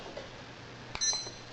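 A kitchen timer is started beside a honey stove heating a kettle, giving a short bright electronic beep over a steady background hiss.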